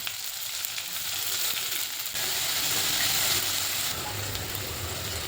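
Sliced onions sizzling in hot oil in a pan for masala bhindi, a steady, close frying hiss that swells briefly, with no talk over it.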